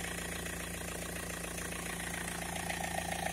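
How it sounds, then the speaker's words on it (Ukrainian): BMW E46 car engine idling, a steady, even mechanical hum heard close up with no voices. "Ось такий неї стан, так працює двигатель."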